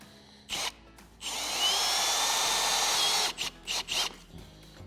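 A power drill whirs steadily, driving a Camo hidden fastener into deck boards, then several short bursts as the fastener is seated.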